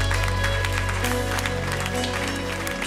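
A church congregation claps and cheers in steady, dense applause during worship, under a sustained organ or keyboard chord, with no break over a few seconds.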